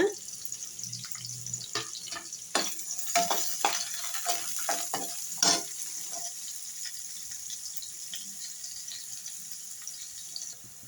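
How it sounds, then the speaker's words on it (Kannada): Onions with green chillies and kasuri methi frying in a pan: a soft, fairly faint sizzle broken by repeated stirring scrapes and taps, with no speech. "ಈರುಳ್ಳಿನ ಸ್ವಲ್ಪ ಫ್ರೈ ಮಾಡ್ಕೊಳ್ಳೋಣ"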